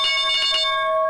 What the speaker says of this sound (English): the closing bell is going to go off in my platform, so it's going to be louder than hell here